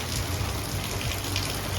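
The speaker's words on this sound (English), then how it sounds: "I finally got some more rain" Steady rain falling outdoors in a garden with cantaloupe plants, a dense, even hiss of drops on surfaces that stays constant throughout, close and moderately loud, with no voices.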